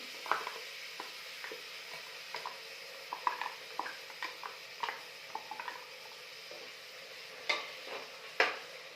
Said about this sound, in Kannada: ಇದಕ್ಕೇನೆ ಶುಂಠಿ ಬೆಳ್ಳುಳ್ಳಿ ಪೇಸ್ಟ್ ಹಾಕ್ತಾ ಇದ್ದೀನಿ.